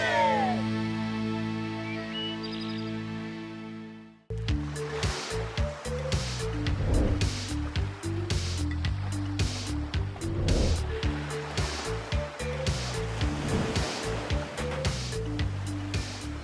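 Waves wash and break against the rocky shore at Caleta Los Molinos in Chile, a loud, continuous surging roar with repeated crashes, beginning abruptly after a few seconds of music.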